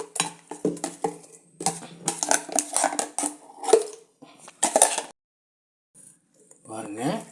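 A metal spoon scrapes and clanks against a pot while ground paste is mixed into pressure-cooked vegetables, a run of close irregular clatters that stop, followed by a short silence and a few more knocks.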